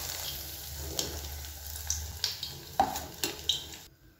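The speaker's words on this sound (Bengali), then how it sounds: "বড়াগুলো আমি এক এক করে তেলের মধ্যে ভাজতে দিচ্ছি" Lentil fritters (bora) fry in hot oil with a steady hiss, broken by a few sharp spatula clinks and scrapes against the pan before the sound cuts off abruptly.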